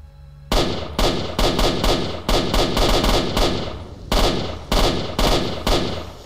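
Rapid bursts of gunfire in the video game S.T.A.L.K.E.R.: Shadow of Chernobyl crackle in quick succession, loud and close, with short pauses between volleys and a steady background hum.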